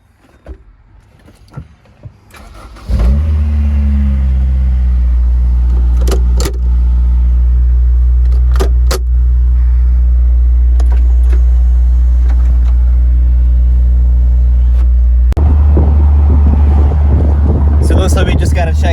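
A Honda S2000 roadster starts and drives on the street, its engine droning loudly and steadily with gear changes and a surge of revs near the end, while people talk over it.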